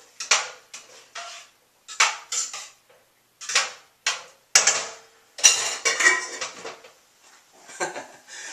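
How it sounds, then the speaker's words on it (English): Split pea soup coming back to a boil is stirred in a pot, giving irregular metallic clanks and scrapes of the spoon against the pot, close and moderately loud, with brief pauses between strokes. "The soup is already coming back to a boil. Quick stir."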